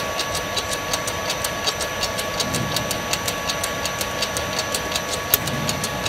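A MIC-350L vacuum mixer homogenizer with flow meter and pump runs with a steady mechanical hum and a fast, regular ticking, with one sharper click near the end as a valve switches.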